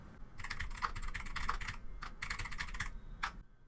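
Keys clatter on a computer keyboard in two quick bursts of steady typing, close and fairly quiet, with a short pause between runs and a single final tap.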